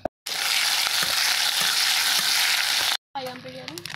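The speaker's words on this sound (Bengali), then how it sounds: "কাঁকড়াটা ভেজে নিচ্ছি, দিচ্ছি রসুন করে, দিচ্ছি কালো জিরা" Crab frying in hot oil with garlic and black cumin, a loud, dense, continuous sizzle close up with a brief break near the end, after which the sizzle returns with some stirring clatter.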